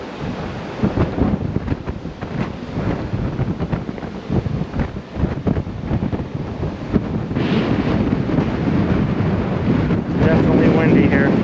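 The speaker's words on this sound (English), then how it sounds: "Definitely windy here." Strong coastal wind buffets the microphone at Fort Point in San Francisco, a loud, continuous roaring rumble with gusty surges throughout.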